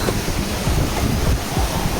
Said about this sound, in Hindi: बड़ा ब्यूटीफुल झरना